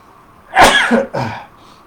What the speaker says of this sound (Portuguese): Se eu espirrar de novo, vocês vão me desculpar